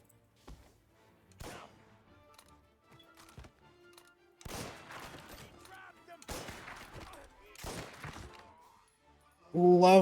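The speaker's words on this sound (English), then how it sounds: "let's try this rifle" Sporadic rifle shots in the video game Mafia: Definitive Edition, a sharp single crack, then several louder spaced bursts of fire with quieter gaps between, ending in a loud harsh burst.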